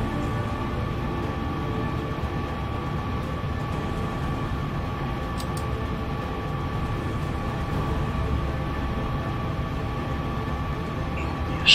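A steady, continuous rumble with a faint constant hum comes from a train running in the MaSzyna rail simulator game, driven between Skwarki and Koniewice in an Impuls unit, droning evenly throughout.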